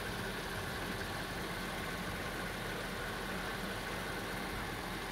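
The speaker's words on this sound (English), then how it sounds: "Here's the engine." A 2005 Mercedes SL500 engine idles at a steady, even level, with a broad constant rumble close by and no voices.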